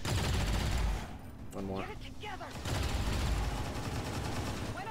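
Rapid bursts of gunfire from a rapid-fire ability in XCOM 2 Long War, loud and dense, with a brief lull and a short spoken line in the middle before the shooting resumes.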